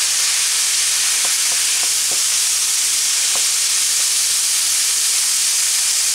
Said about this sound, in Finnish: Tässä vaan hämmennellään kahta pakkoa erikseen.